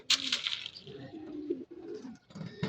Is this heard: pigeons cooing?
yes